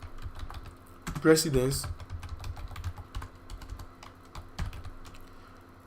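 Python code is typed on a computer keyboard in a run of quick, light key clicks that continue steadily, with a short stretch of someone talking near the start.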